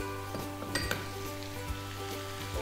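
Chopped garlic frying in medium-hot oil gives a steady close sizzle, with a few brief clinks and stirring scrapes over a faint background hum.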